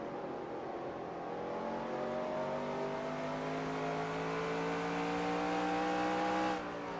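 A stock car's engine drones steadily in NASCAR Racing 2003 during a 1992 Winston Cup race at Richmond, its harmonic whine rising gradually as it accelerates, loud and continuous before cutting off abruptly near the end.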